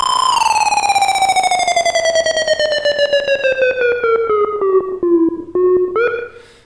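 A loud synthesized tone from a single oscillator through a low-pass filter sweeps steadily downward in pitch with a fast pulsing flutter, then jumps back up briefly near the end.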